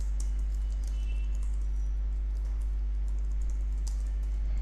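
A computer keyboard clatters with a steady run of soft keystrokes as code is typed, close by over a heavy, constant low hum.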